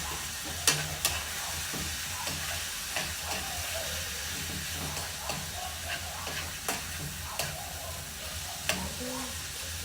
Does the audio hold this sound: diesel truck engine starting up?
no